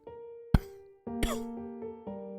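Two or three raspy coughs and throat-clearing grunts from a deep, hoarse voice of an old-man character in the video game Faint Echo, close and fairly quiet, with short pauses between.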